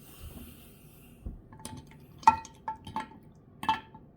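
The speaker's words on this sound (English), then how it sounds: "So I'll throw him back in the hot water there." A plastic WWE Elite action figure drops into a container of hot water, giving a few small splashes, drips and light clinks, close and quiet, with no talking.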